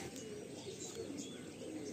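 Pigeons in a loft coo softly and steadily, with low murmuring calls and faint chirps. The sound is distant and quiet, against a light background hiss.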